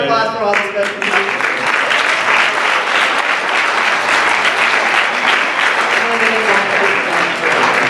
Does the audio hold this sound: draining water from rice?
no